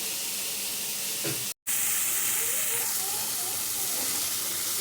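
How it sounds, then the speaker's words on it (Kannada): Onion and tomato frying in a pan for mushroom chilli give a steady, close hiss and sizzle with a brief break partway through. "ಈರುಳ್ಳಿ ಟೊಮೊಟೊ ಚೆನ್ನಾಗಿ ಫ್ರೈ ಮಾಡ್ಕೋಬೇಕು"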